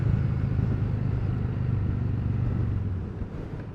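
A Honda VT750 cruiser motorcycle on an open road as it turns left, its engine a steady low rumble that eases off near the end, with no voices over it.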